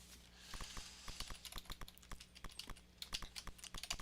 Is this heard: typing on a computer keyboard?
yes